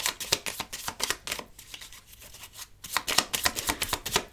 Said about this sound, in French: Alors moi, ce que je vais faire, je vais mélanger les cartes.